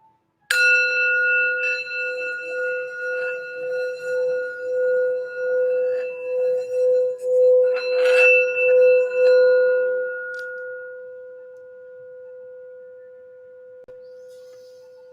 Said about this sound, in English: I'm just gonna go ahead and do this sound bell real quick to focus our energy and get into the reading.